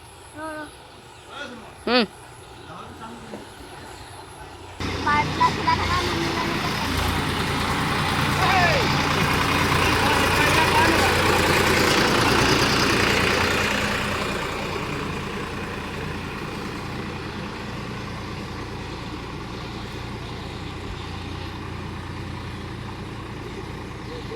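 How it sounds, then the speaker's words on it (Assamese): A tractor engine rumbles past close by on a village road, rising to a loud, steady drone and then slowly fading. A few brief voices and clicks come before the engine arrives. "সেইফালে ট্ৰেক্টৰখন আছে আহিছে"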